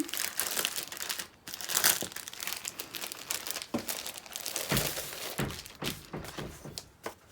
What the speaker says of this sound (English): let me open these up and just kind of flip through and show you the types of papers that are included.